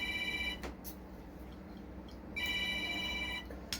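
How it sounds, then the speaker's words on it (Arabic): A phone ringing indoors in an Egyptian home, a repeating electronic ring tone in two bursts separated by a pause, moderately loud over a steady background hum. "تليفون مين اللي بيرن؟"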